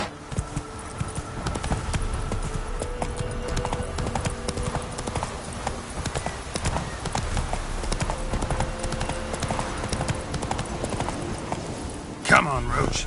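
Roach the horse galloping in The Witcher 3 on PS5, rapid continuous hoofbeats close by, with a brief whinny-like burst near the end and a voice speaking over it.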